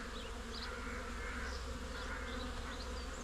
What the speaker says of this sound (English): As you can see, these bees are really busy.